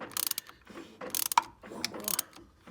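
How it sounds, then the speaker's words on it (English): Metallic clicks and ratcheting clatter come from a car engine bay as an alternator belt with no tensioner is worked off, in a few quick bursts close by without talk. "we're going to take the alternator belt off, which we don't have a tension on this"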